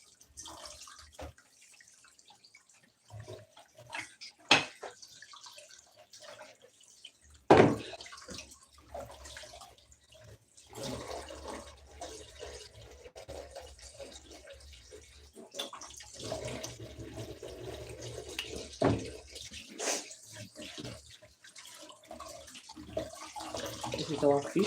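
Dried catfish being washed in a basin of water, with splashing, sloshing and running water through the clip, louder and busier in the second half, plus a few sharp knocks.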